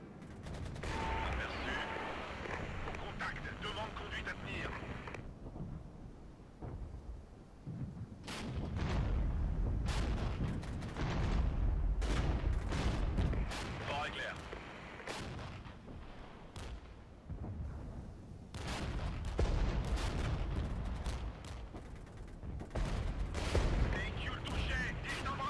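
Gunfire from deployed troops in the video game Regiments: dense, distant-sounding volleys of rifle and machine-gun fire with booming artillery, continuous and rolling, with someone talking over it.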